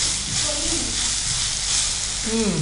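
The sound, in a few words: fenugreek leaves frying with green chili paste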